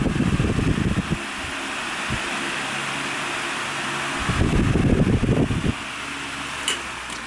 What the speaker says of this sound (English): And high. Pushes a lot of air on high.